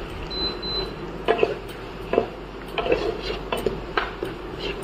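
Onions with salt and sugar are stirred in a cooking pan in a home kitchen, a utensil scraping and knocking against the metal in irregular bursts over a low background hum, fairly close.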